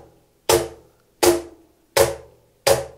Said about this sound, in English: And then you have a high pitched sound.